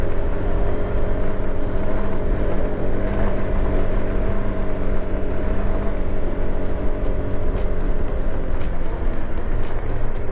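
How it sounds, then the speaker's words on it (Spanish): A KTM 390 motorcycle engine held at high revs around 7000 rpm, a loud, steady, unbroken roar that stays at constant pitch throughout with no pauses. "Ha llegado a 7000 revoluciones. Se ha comenzado a sonar como si estuviese en 9000."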